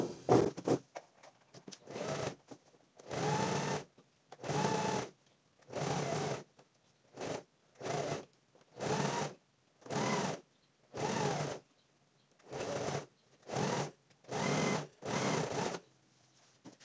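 A sewing machine stitches bias binding onto fabric in repeated short bursts of rapid mechanical whirring, separated by brief pauses, close and clear.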